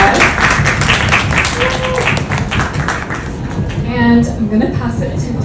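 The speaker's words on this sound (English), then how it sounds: "Big round of applause." An audience claps to welcome panelists at a circular fashion event, a loud, uneven burst of clapping mixed with voices and tapping noises.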